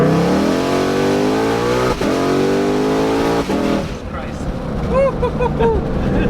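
A car accelerates hard in first gear, its loud, close engine note climbing steadily in pitch and dipping briefly near the two-second mark. After about four seconds the engine settles and people talk over a lower rumble.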